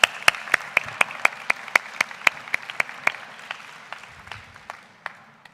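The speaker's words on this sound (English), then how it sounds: "Let's give them a round of applause." Crowd applause at a convocation ceremony at the Algonquin College Pembroke Campus: crisp, distinct claps at a quick, fairly regular pace at first, then thinning and fading toward the end as the clapping dies down.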